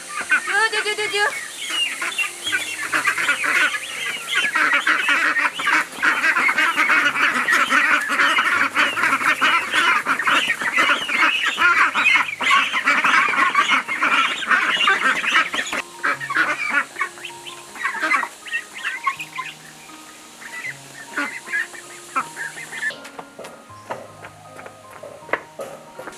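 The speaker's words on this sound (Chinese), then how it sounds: "对，鸭子。" A flock of ducks honks and quacks loudly and continuously as they are called to feed. A person's voice calls out now and then amid the din.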